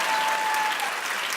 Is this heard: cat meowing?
no